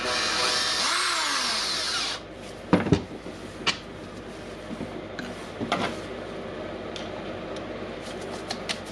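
A new keyless chuck fitted onto a Makita DDF482 cordless drill: a brief whirring spin of the drill, then a series of sharp metallic clicks and clatters as the chuck is handled and tightened, close and alone.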